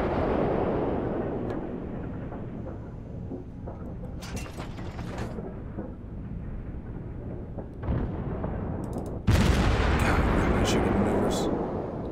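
Warship guns fire in the naval video game World of Warships, with deep rumbling booms and a heavy blast near the end, under someone talking.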